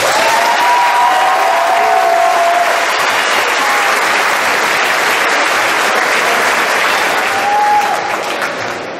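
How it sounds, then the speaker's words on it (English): A graduation audience for a high school class of 2015 applauds loudly and steadily, a dense wash of clapping with some cheering that holds for several seconds before easing slightly. "Please give them a round of applause."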